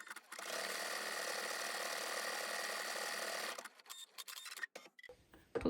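An embroidery machine stitches ivy leaf veins in metallic thread on a lace heart, a steady close whirring hum that runs for several seconds, then stops, leaving a few scattered clicks and handling sounds.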